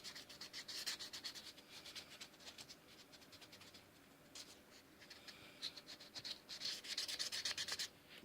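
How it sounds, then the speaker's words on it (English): Close, quiet rubbing of 400-grit sandpaper on a tobacco pipe during restoration, rapid rhythmic back-and-forth scratching strokes that come in bursts and swell louder toward the end. "Just sand the hell out of it."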